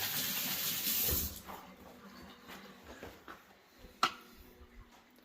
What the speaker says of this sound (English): Let me rinse my hand off here.